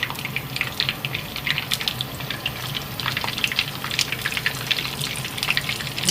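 Fish sizzling in hot oil in a pan, a steady dense crackle and hiss with scattered sharper pops that keep going throughout, fairly loud and close, with no one speaking.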